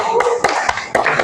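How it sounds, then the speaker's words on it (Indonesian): A small group claps after a presentation: a handful of loud, close hand claps in an uneven rhythm, with voices murmuring underneath. "Tepuk tangan dulu dong."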